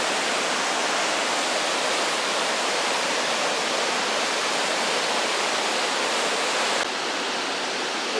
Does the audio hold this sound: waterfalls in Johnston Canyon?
yes